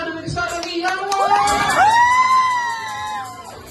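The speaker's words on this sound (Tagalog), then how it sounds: "Sabi ko na malakas na palakpakan na may kasamang hiyawan!" A crowd of children at a birthday party cheers, whoops and shouts loudly, with rising excited voices building to a sustained shout over a few seconds.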